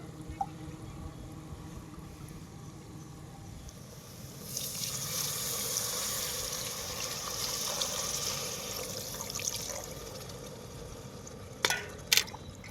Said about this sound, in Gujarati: હવે આમાં પાણી નાખ્યું આપણે.